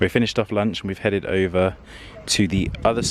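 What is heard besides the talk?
No everyday noises stand out.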